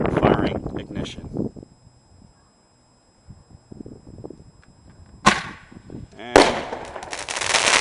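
Fireworks set off by a wireless firing system during a live test, giving several sharp bangs and bursts, including two loud crackling blasts near the end, with a person speaking at the start.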